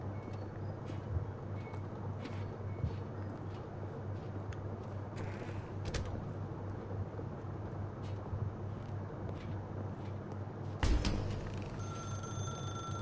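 A telephone rings repeatedly in the video game Stanley Parable, steady bell pulses set against a low ambient hum, with a sharp clunk near the end.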